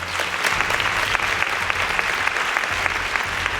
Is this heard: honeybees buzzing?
no